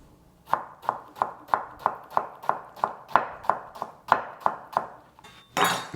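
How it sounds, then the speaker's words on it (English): A sharp knife dicing an onion on a board, about fourteen crisp, evenly spaced chops in a steady close rhythm, followed by a brief scraping clatter, with no voices. "We're dicing up the onion, so we're cutting it this way"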